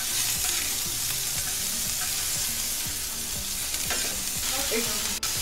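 Onions frying in a tawa for chicken tawa keema, a steady crackling sizzle with repeated scraping stir strokes throughout, close and fairly loud, with no voices.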